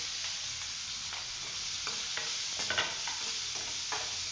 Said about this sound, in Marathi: हिरव्या मिरच्या टाकते लगेच कढीपत्ता टाकते आणि कांदा टाकते